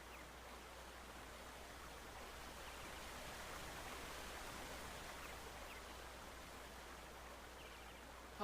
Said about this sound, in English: you'll notice that the sound actually comes from the waterfall